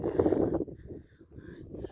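Gusts of wind buffet the microphone in a strong rush that dies down, then picks up again softly, with no talk.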